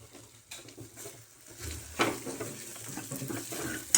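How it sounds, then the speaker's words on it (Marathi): Water poured into a cooking pot while making Maharashtrian fasting amti, a peanut-based curry, giving a steady splashing pour with some soft kitchen clatter, close and moderately loud, with no talking. "आणि हे पाणी टाकते"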